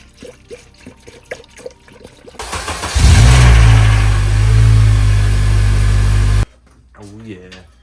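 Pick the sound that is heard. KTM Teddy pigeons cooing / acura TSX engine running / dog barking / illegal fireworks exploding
acura TSX engine running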